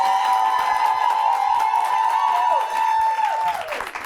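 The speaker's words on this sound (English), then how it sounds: "Might be the biggest clap an investigative journalist has ever got." A studio audience cheers and applauds loudly and steadily for an investigative journalist guest on a South African talk show, with a sustained whistle or whoop riding over the crowd for several seconds before it tapers off.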